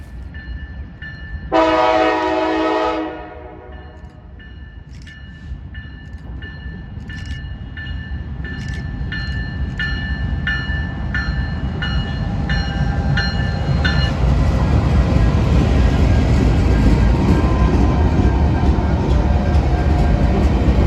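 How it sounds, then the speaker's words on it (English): A BNSF locomotive numbered 6953, leading a train, sounds its K5LA horn in one loud blast of about a second and a half. The rumble of the approaching train then swells steadily and fills the rest of the stretch. "6953 is the leader on this train, and it's a necessarily loud K5LA"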